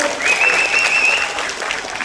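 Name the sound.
audience applause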